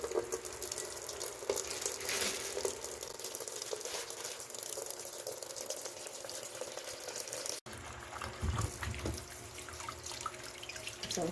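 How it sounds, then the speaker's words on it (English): Tap water runs steadily into a sink while about six potatoes are washed and scrubbed under it, a continuous close splashing hiss with a brief break partway through. "I'm just going to wash them really good, scrub them really good."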